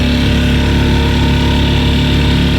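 Small sailboat engine with a carburetor out of adjustment runs loud and close, a buzzy, steady chug with rapid regular pulses and nobody speaking.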